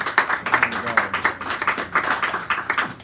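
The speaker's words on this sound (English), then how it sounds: "give her a round of applause" Audience clapping for a poet at a poetry hour in Sacred Grounds Cafe, San Francisco, a small crowd applauding steadily and close for about three seconds with loose overlapping claps.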